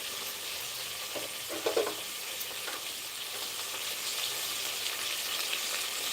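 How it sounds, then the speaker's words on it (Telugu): Potatoes and coriander fry in a pan for khichdi with a steady, bright sizzle, broken near the middle by a few brief clinks and stirs; close and continuous, no talking. "వీటిని చక్కగా ఒక ఫైవ్ మినిట్స్ అయితే రోస్ట్ అవ్వనివ్వాలి"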